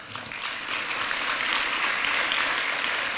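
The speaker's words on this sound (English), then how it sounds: "I think you should give yourselves a round of applause for that." A room of people at a business awards event applauds steadily, a dense, even clatter of clapping throughout.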